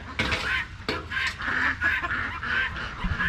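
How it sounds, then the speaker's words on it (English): Guinea fowl and roosters in a farm compound make loud, close honking and squawking calls that repeat and overlap almost without a break. "The guineas can't make their mind up whether they want to come in here or not."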